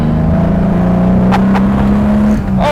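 Lamborghini Jarama engine revving while driving at around 4,000 RPM, a loud steady drone from inside the old-school car with a brief shift in pitch near the end and no talking.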